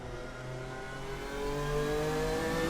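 Racing video game engine note from a McLaren F1, long-tail and short-tail versions on track: a steady, rising whine with layered harmonics that climbs in pitch and loudness partway through, heard alone without talk.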